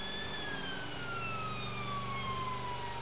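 A Mercedes Sprinter ambulance siren wails a steady falling tone over the rumble of the moving vehicle, loud and continuous throughout.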